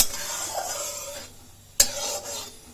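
A spatula scrapes and spreads oil around the sides of a kadhai while making pav bhaji: a steady soft scraping stir with faint sizzle, broken by one sharp metallic clack near the middle before the scraping resumes.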